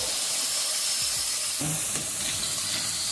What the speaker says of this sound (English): and now onion. I love the sound.